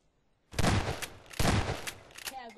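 Video game gun fire in two loud, dense bursts of rapid shots, each lasting about half a second, close and harsh, followed by a short trailing sound.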